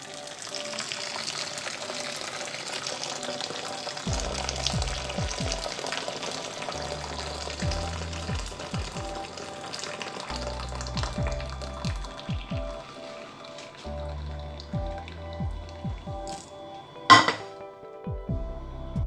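Lemon balm syrup trickles and splashes steadily as it strains through a muslin bag, with soft dripping and a brief clatter near the end; no talking.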